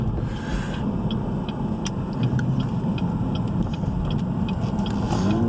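A repairable-salvage 2016 Cadillac CTS-V accelerating at part throttle, heard from inside the cabin as a steady, full engine drone and road rumble that holds level throughout with no voices.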